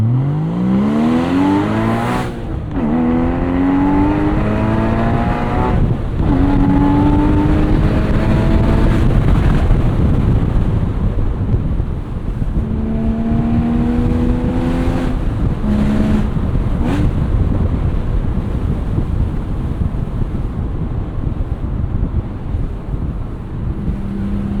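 A 2016 Porsche 981 Boxster Spyder engine pulls hard through several rising revs with sharp gear changes between them, loud and continuous, with heavy wind rush over an open top and no speech.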